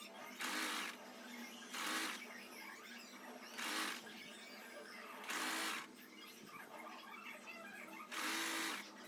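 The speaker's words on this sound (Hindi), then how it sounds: "इसके बाद इसे सिलेंगे।" A sewing machine stitches a farshi salwar in short bursts, about five loud whirring runs separated by brief pauses, with a low hum beneath.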